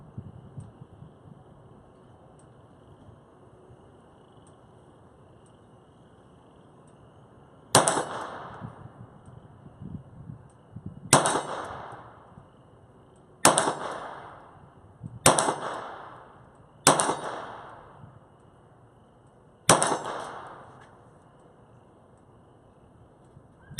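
Six sharp .22 Long Rifle shots from a Ruger Mark IV pistol each ring off a CTS competition steel target outdoors, irregularly spaced with fading metallic rings and quiet background between.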